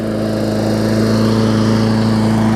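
A New Murray lawn mower's small engine runs steadily at a constant idle, a loud even drone with a low rhythmic chug and no break.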